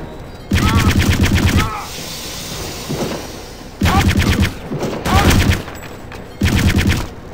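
Bursts of rapid automatic gunfire from the player's standard gun in the shooter game Wolfenstein, loud and close, four sustained volleys of around a second each separated by short pauses, with no voices over them.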